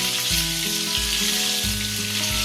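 Butter and oil melt in a hot pan with a loud, continuous sizzle and crackle throughout, close up, over a low humming drone.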